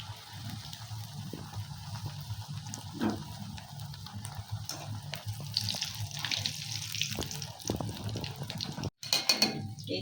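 Smiley-shaped chips made from boiled potato sizzle and bubble in hot oil, a steady close hissing crackle that carries on throughout, with a brief dropout near the end and no talking.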